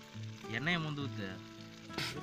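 Pork pieces frying in oil for a village-style pig fry make a close sizzle while hot oil is scooped and poured over them, with a voice speaking over the frying.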